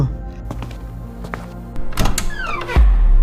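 A door opens, with a mechanical whir and clicks followed by a heavy thunk near the end, loud and close in a quiet space.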